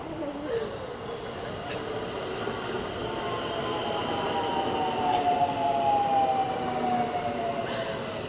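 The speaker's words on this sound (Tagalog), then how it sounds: "May train na parating." A train arrives at a station platform in Kyoto, Japan, with a steady rumble and rising metallic wheel squeal building through the middle and end, fairly close and continuous.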